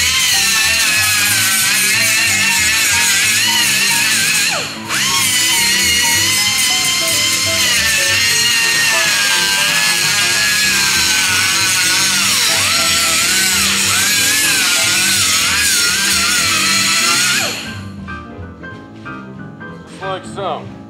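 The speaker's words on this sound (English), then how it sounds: "I went ahead and took my die grinder, my cutting wheel, and I grinded the rust, no I'm sorry, I grinded the lead" A die grinder with a cutting wheel whines loudly and continuously as it grinds lead filler on the body of a 1970 Volkswagen Karmann Ghia, pitch dipping under load, with a voice faintly underneath before the tool spins down near the end.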